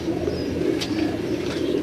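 Pigeons from a Lahore fancier's flock, including Dilawar Khan's line, coo in a steady, continuous low murmur, close and moderately loud with no voices over it.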